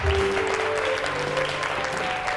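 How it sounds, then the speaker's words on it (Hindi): A studio audience on a TV show breaks into applause, a dense, continuous patter of many hands with a faint tonal backing underneath. "अच्छा तो अच्छी बात लगी तो तालियां बजा दें।"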